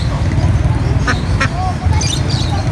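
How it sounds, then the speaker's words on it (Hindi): Ducks quack in short bursts at a busy live-poultry market, mixed into a steady low crowd rumble and nearby voices. "और ये बत्तखों की"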